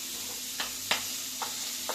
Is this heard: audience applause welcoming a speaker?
no